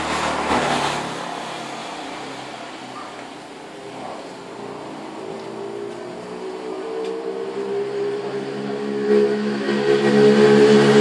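A new car passes by outside, its engine noise rising gradually from a low hum to a louder whirring approach, with a brief noisy burst at the start and no speech.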